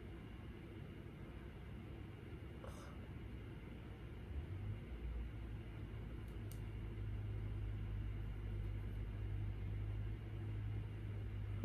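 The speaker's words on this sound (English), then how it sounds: "Loud-ass car, though. Why y'all be having a loud-ass cars?" A loud car passing outside, heard indoors as a muffled low rumble that builds partway through and then holds, fairly faint.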